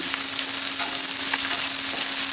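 Liver frying in a pan with leaves just added gives a steady, close sizzle that runs without a break, with faint crackles and no voices.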